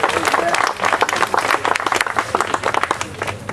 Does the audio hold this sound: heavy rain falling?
no